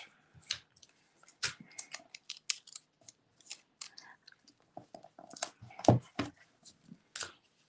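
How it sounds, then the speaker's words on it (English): Scotch tape being pulled off and applied to a handmade card, heard as a series of short, close, crisp crackles and snips spread irregularly across the quiet, with no speech. "we're just going to go ahead and adhere this, and I'm going to use Scotch tape to do it"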